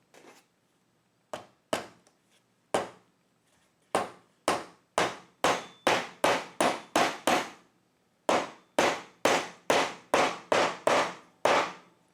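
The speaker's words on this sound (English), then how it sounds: "I'm using a nut driver here just so I can set the position of these nails exactly." Nails are tapped into the back of a chair frame with a nut driver: sharp, close knocks, first sparse, then in quick bursts of several blows with short pauses between, no talking.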